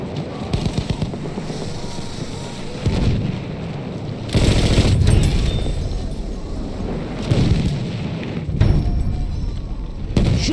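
Battlefield 1 combat: repeated heavy bomb explosions and rumbling booms mixed with bursts of gunfire, loud and close, several blasts recurring every couple of seconds.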